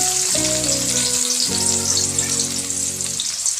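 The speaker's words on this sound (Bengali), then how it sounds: "তেল গরম হয়ে গেলে কুচনো পেঁয়াজ" Medium-chopped onions, about 200 grams, sizzle in hot white oil in a kadai, a loud steady close frying hiss, with a low hum that stops briefly and resumes.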